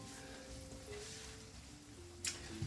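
Tofu fries lightly in oil in a pan, a steady soft sizzle running throughout with a brief clatter near the end.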